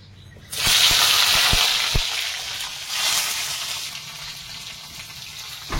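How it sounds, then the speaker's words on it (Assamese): Brinjal pieces drop into hot oil in a wok and burst into a loud, continuous sizzle that stays steady, then eases slightly as the frying settles. "এতিয়া বেঙেনাখিনি ভাজি লওঁ।"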